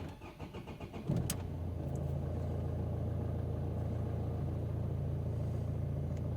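An Opel Astra H engine cranks for about a second, catches, and settles into a steady, low idle rumble.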